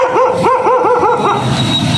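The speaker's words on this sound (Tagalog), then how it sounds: "Yung aso galit." A dog barks angrily in a fast run of about six sharp, close yips, then breaks off into a lower whining growl.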